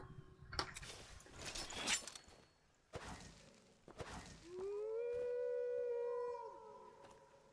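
A wolf in the video game Skyrim lets out a long rising howl that holds steady for a couple of seconds, following earlier whooshing and clattering game sounds, no talk.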